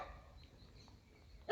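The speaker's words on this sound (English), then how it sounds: "the background noise, the dogs barking and whatnot" Dogs bark faintly in the background of an outdoor scene in Trinidad, a few distant yips under low ambient noise before a louder sudden burst at the end.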